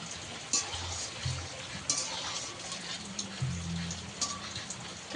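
Palm fritters (taler bora) deep-frying in oil give a steady, close crackling hiss, with a few soft knocks and scrapes of a spatula turning them.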